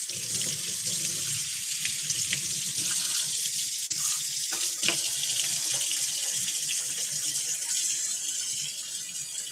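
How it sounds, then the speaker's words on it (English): A kitchen tap runs steadily as a knife is rinsed under the water, a continuous close splashing hiss with faint clinks from the blade and no talk. "I rinse off this knife."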